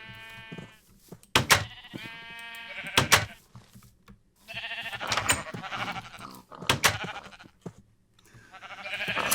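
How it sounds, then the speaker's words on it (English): Sheep in a Minecraft game bleat in repeated, wavering calls, several close and loud cries spaced irregularly across the stretch, with no talk over them. "Come here, sheepy, sheepy, sheepies! Give me your wool, sheepies!"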